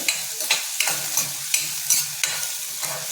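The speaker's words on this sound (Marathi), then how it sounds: "यात आपण एक अख्खा बारीक चिरलेला कांदा आणि 5-7 कढीपत्त्याची पानं टाकलेली आहे। आपल्याला नेहमीप्रमाणे गुलाबी कलर होईपर्यंत परतायचा आहे।" Finely chopped onion and curry leaves sauté in hot oil for matki usal, with a soft sizzle under rhythmic spatula strokes scraping the pan roughly every half second, close and with no voices.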